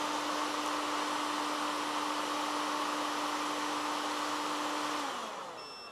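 A hair dryer on its higher setting, drawing about 1860 watts from an Allpowers R1500 portable power station, runs loud and steady with a whining motor hum and rushing airflow, then winds down as power cuts out near the end.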